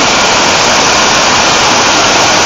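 Minbalot Falls in Barangay Buruan, Mindanao, roars as a loud, steady broadband rush of falling water, constant and close, with no voices.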